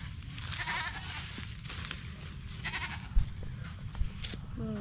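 A goat bleats a few times at a farm in the Philippine countryside, short calls rising over steady low rumble and background noise, with no talking.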